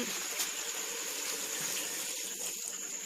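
Water poured steadily into a cooking pot of Lao-style beef curry, a continuous faucet-like rush with a bright hiss, close and unbroken for the whole stretch with no talk.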